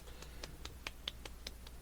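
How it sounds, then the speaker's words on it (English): A slow, quiet golf clap, about eight light, evenly spaced hand claps heard close and alone, with no talking over them. "I don't know if the golf clap is coming through"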